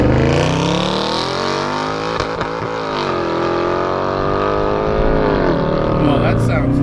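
Engine of a 2009 Mercedes C63 P30 revving steadily in manual sport mode, a loud continuous rising and falling drone heard from close by with a brief dip midway.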